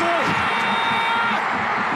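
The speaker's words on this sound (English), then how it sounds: "Listen to the crowd pop." A stadium crowd roars loudly after a late winning goal in a Japanese second-division football match, a sustained dense cheer with a commentator's voice rising over it.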